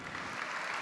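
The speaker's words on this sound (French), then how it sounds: "On applaudit." A short burst of audience applause at a gastronomy and wine awards ceremony, dense and steady clapping, fairly faint and heard alone.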